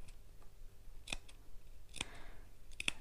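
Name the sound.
scissors snipping into fabric seam allowance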